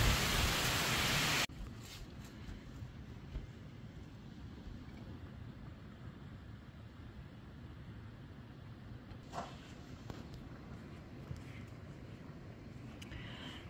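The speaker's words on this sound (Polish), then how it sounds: "Patrzcie, jak zacina. Wow. Jakie fale deszczu." A heavy rain downpour driven in waves under a shelter, a steady dense hiss of rainfall after a brief louder burst at the start, with a couple of faint knocks partway through.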